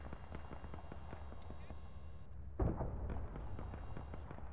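Ammunition cooking off in ARMA 3, a rapid train of faint distant pops and crackles followed by one heavier thump, all under quiet background noise.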